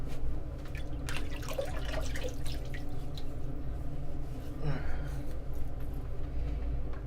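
Water runs steadily from a tap into a sink with dripping and splashing, a continuous close hiss filling the clip while someone wets their face before shaving.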